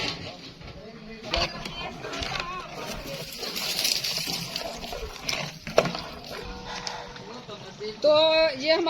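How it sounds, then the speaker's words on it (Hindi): Water is poured into a degi chicken korma pot while cooking, giving a soft, splashy pour heard close up over a busy kitchen background. "मैं थोड़ा सा पानी डालूंगी"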